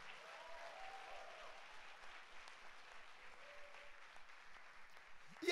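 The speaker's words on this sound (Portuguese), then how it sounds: "Se quiser aplaudir, aplauda mesmo." A church congregation applauds during a Sunday service, a continuous bed of many hands clapping at moderate, slightly distant volume, with a faint melodic tone drifting underneath and a brief louder burst at the very end.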